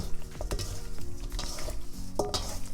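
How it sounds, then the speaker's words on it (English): Wet, squelchy hand-mixing of seasoned fish and meat for Liberian-style fried spinach, with soft kneading squishes and occasional light clinks of a bowl, close and steady. "You just want to go ahead and mix your fish and your meat together."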